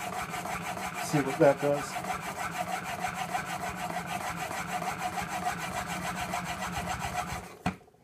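A coffin smoother plane iron is rubbed back and forth on abrasive grit in quick, even scraping strokes, close and steady, with someone speaking briefly over it early on before the rubbing stops near the end.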